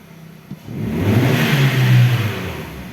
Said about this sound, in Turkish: Direkt çalıştı. Gaz yemesi mükemmel.